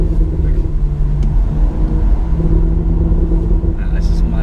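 A 2018 BMW M2 engine rumbles steadily with a low droning tone and a slight rise near the end, heard from inside the car with continuous road noise.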